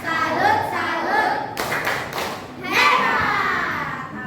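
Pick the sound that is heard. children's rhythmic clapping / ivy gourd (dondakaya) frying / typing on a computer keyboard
children's rhythmic clapping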